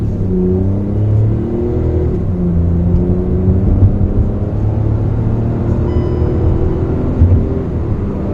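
A Hyundai i20 N Line hatchback engine pulls hard under full throttle in sports mode, a close, steady rising drone with harmonic whine climbing in pitch across gear changes inside the cabin.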